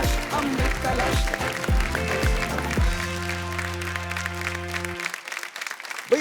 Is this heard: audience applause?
yes